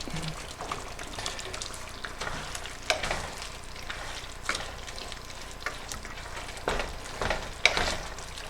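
Meat sizzles and fries steadily in a pan after the fat is drained, a dense continuous crackle with occasional stirring scrapes and clinks, close and fairly loud.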